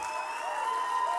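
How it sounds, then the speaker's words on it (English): Audience applause at a Saskatchewan music awards show, a brief steady wash of clapping with a sustained tonal layer running through it. "Stand up and give this girl a huge round of applause for leading the Saskatchewan Music Association."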